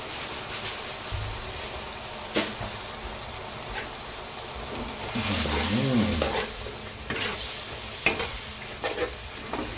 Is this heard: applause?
no